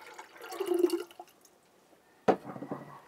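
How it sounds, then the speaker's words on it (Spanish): Citrus juice is poured into water in a kitchen, giving a short splashing pour followed later by a sharp second pour and trickle, fairly close and alone. "Vamos a integrarle al agua."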